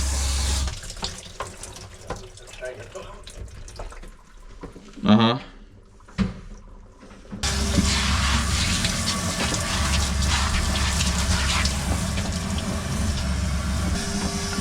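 Tap water runs steadily and drains away in a converted camper van, starting midway and continuing as a loud constant rush, with a brief voice before it begins.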